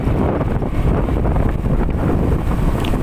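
Strong wind sweeps across a Thai rice field full of ripening, heavy-headed stalks, a loud, constant roar with heavy gusting buffeting against the microphone and no voices.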